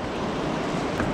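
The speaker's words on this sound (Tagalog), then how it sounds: "Ito medyo malakas yung agos." A strong river current flowing at a sandy riverbank near Dingalan, Aurora, a loud, steady broadband rush of water with a windy edge, continuous and close.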